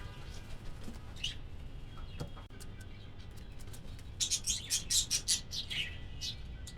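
Pigeons kept for breeding call with bright chirping bursts, a few scattered at first and then a quick cluster of repeated calls near the end, over a low, steady background hum.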